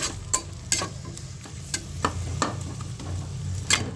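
Onions dropped into hot oil fry with a crackling sizzle, punctuated by several sharp scraping strokes of a spatula at irregular intervals, close and fairly loud with no voices.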